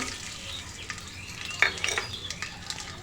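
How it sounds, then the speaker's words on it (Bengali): Onion and green chilies stir-fried in a pan for a ol kochu (elephant foot yam) mash, giving a steady soft sizzle with a few brief scrapes and clinks of a spatula, close and continuous with no talking. "পেঁয়াজ কাঁচামরিচ এটা দুই মিনিটের মতো একটু নাড়াচাড়া করে নেব"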